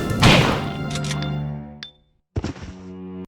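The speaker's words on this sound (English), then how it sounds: "I personally love the sound of blasting a zombie's head off with a shotgun" A shotgun blasts a zombie in the Resident Evil video game: one loud, punchy thud that rings out under tonal music, then a short gap and a second sharper impact.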